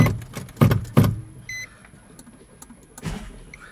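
A Nissan 350Z with a no-start fault gets a turn of the ignition key: several loud, close bursts of clunking and a brief chime, then a fainter thud, with no engine catching and no talk.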